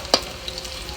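Onion, potato, dried chillies and whole cumin crackle in hot oil for a village-style chicken curry, with one sharp stir or utensil tap early on over a soft, steady sizzle.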